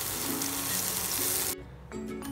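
Vegetables for hara bhara kabab steaming and sizzling in a pan with a little added water, a loud, steady frying hiss that cuts off abruptly, followed by softer clinking.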